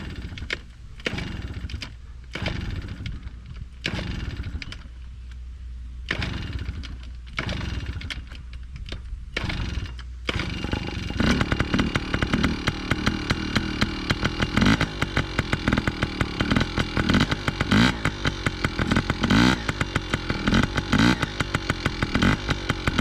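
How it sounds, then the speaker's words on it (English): A petrol dirt bike engine, first in short bursts of revving and pauses, then running continuously with a buzzy, rapidly pulsing drone, loud and close, with no speech. "this is also Chevy's very first time riding a petrol bike"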